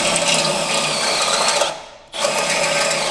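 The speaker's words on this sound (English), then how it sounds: "I'm pre-drilling holes in each corner of where I need to cut" A power drill whirs steadily while pre-drilling holes into a metal truck cross member during custom fabrication, loud and close, with a brief dip when the motor slows before it spins back up.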